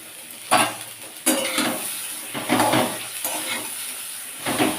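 Grated carrots for halwa are stirred in a hot heavy-bottomed pan, each stroke a close sizzling scrape that comes in repeated bursts over a constant background hiss.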